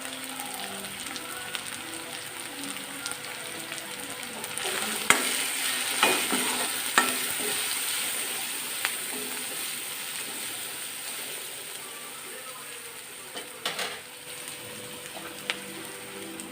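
Garlic paste, spices and turmeric fry in a pan for an Assamese fish curry with brinjal, a continuous close sizzle broken by repeated scraping and clinking strokes of a stirring utensil.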